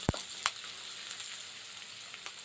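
Onion fries in a pan with a little salt and turmeric, giving a faint steady sizzle with a few sharp clicks from a utensil against the pan.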